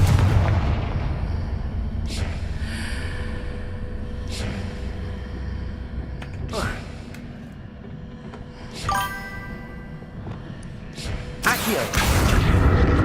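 Confringo explosive spell blasts in the Hogwarts Legacy video game, several sharp booming bursts spread across the clip with tinkling debris, the loudest hit near the end.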